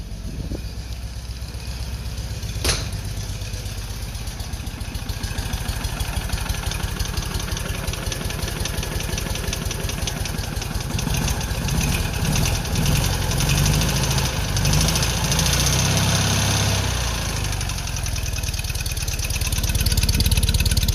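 A 50-year-old engine, freshly revived and running rich, idles roughly with a steady, uneven knocking chug, surging slightly louder partway through and again near the end.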